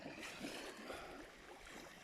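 Calm sea with small waves lapping at the beach at Krynica Morska, a soft, faint continuous wash with gentle surges, no voices.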